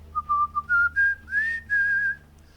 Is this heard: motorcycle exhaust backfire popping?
no